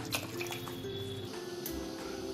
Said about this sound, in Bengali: এবার আমি এতে পরিমাণ মতো জলটা দিয়ে দেবো।